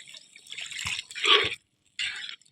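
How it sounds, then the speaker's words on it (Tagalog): Water pours in short splashing bursts into a cooking pot during an outdoor meal, two brief pours separated by a pause, close and fairly clear. "Lalagyan natin ng tubig."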